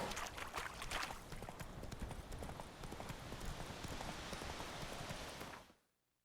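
Roach the horse trotting in The Witcher 3, a steady close clip-clop of hooves running evenly for several seconds before cutting off abruptly, with no talk over it.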